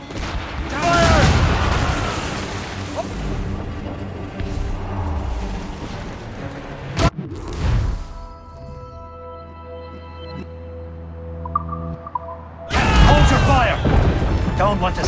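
Cannon fire from sailing ships in the Assassin's Creed Rogue video game, several heavy booming volleys and crashes separated by quieter stretches, with shouted voices in between.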